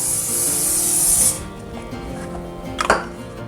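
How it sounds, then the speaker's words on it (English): A can of cooking spray hisses onto a 9x13 baking pan in one continuous burst for about a second, then stops, followed by a few soft handling clatters. "I'm going to spray my 9x13 pan."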